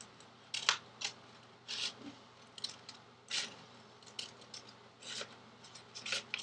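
Scissors cut through paper to trim out a printed logo, giving a series of crisp snipping and rustling strokes at an uneven pace, close and fairly quiet with no talking.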